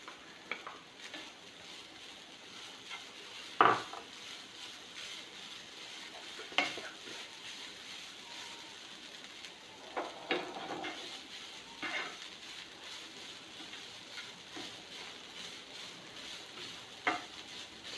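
Cooked chicken goes into a hot pan and is stirred, giving a soft steady sizzle broken by occasional sharp scrapes and clinks of the spoon against the pan, with no talking.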